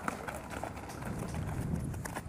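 Horse hooves clip-clopping at an outdoor horse and animal fair in Abreu e Lima, Pernambuco, a steady run of irregular thuds over busy background crowd noise, moderately close.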